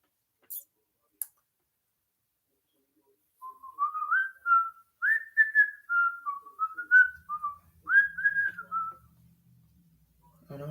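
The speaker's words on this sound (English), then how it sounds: "I might get copyrighted for whistling a song" A person whistles a tune alone, clear and close, in a flowing melodic phrase of several notes with short pauses, after a couple of faint clicks and a quiet stretch.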